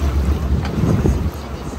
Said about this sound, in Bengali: আর এখন আমাদের বোট আস্তে আস্তে এগিয়ে যাচ্ছে রাইন ফলস এর দিকে